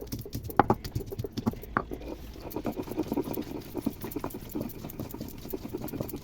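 Spice paste with three or four garlic cloves and a small piece of ginger is ground together, for steamed rohu fish, as a steady run of close, rhythmic knocking and scraping strokes with no talk.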